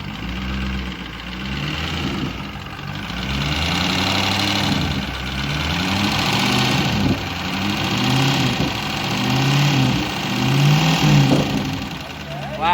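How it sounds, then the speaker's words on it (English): A car engine runs after a head gasket repair using JB Weld, a steady mid-pitched idle with gentle swells of revving and a faint rhythmic knock, while people talk over it. "the way the motor's running sounds great"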